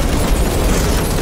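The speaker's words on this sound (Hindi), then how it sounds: "अरे ये तो सिर्फ 10 ग्राम का पटाखा है" A 10-gram firecracker goes off in an action film scene, a loud, dense, roaring blast of broadband noise sustained across the whole moment, with no voices over it.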